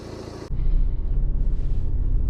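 Mini Countryman Cooper SD All4 driving along a country lane, a steady low engine and road rumble with a pulsing drone that swells in after a brief quieter start, close and continuous with no talking.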